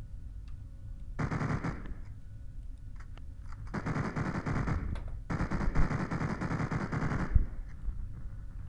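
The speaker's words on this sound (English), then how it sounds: "Apparently there's guns in this." Automatic gunfire from a modded Minecraft game comes in two long sustained bursts of rapid, loud shots, with quieter gaps of background between them and no talking.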